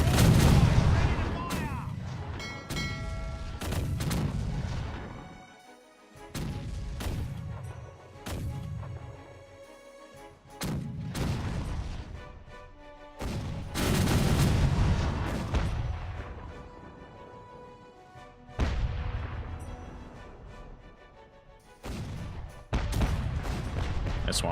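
Ship cannons in Caribbean Legend fire a broadside, a long run of booming blasts and crashes in irregular clusters, each loud report trailing into rumbling decay between volleys.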